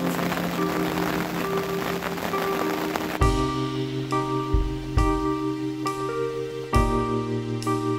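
Steady pouring rain patters on a surface at a catfish fishing lake for a few seconds, then gives way to sustained tonal notes that begin in sharp, repeated bursts.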